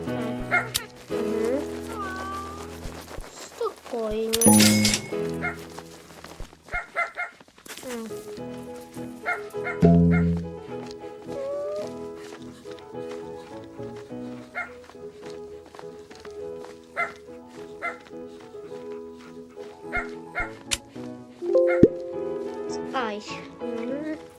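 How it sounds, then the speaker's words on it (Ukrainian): Cartoonish dogs in a Roblox gardening game bark, yip and whimper in short bursts over a busy, tonal game soundtrack, with a person talking throughout. "ці песики"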